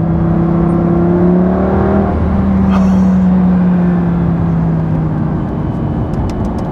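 Lamborghini Gallardo Superleggera accelerating hard: a loud, close engine note with steadily rising tones, a short gear-change dip around midway, then a sustained high-revving pull that fades slightly toward the end.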